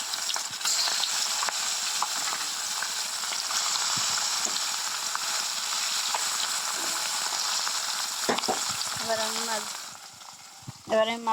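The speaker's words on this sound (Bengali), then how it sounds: "এবার আমি মাছগুলোকে কড়াইতে দিয়ে দেবো।" Spice-coated fish fry in a hot wok, giving a steady, moderately loud sizzle with occasional scraping stirs, then the frying fades near the end as brief clanks break in.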